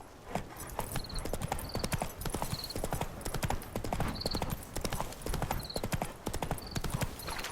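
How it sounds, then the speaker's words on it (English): Steady clip-clop of horse hooves on hard ground in The Witcher 3, a regular trotting rhythm with occasional faint creaks and jingles over a low background rumble. "Spooking my horse."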